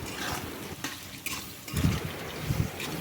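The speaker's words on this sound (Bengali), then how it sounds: "তো মিট মশলা আর টমেটো কুচিটা দিয়ে ভালো করে আবার একটু মশলাটা কষিয়ে নেব।" Spice masala with meat masala and chopped tomato being sautéed in a pan, soft sizzling with scraping stir strokes at close range, steady and fairly quiet throughout.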